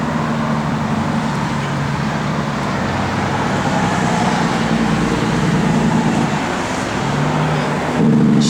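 A 1969 Plymouth Road Runner engine runs at a steady idle, giving a dense continuous rumble that is loud and close, with a slight rise near the end.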